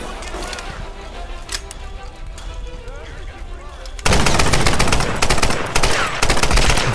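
Gunfire in Tomb Raider Definitive Edition, with steady background game noise that gives way to a dense, loud run of rapid shots in the second half, fired in quick bursts.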